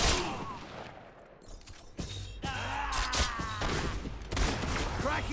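Gunshots in Fable 3 during a fight over a rich queen, sharp cracks and a bursty fusillade mixed with grunts and game effects, moderately loud.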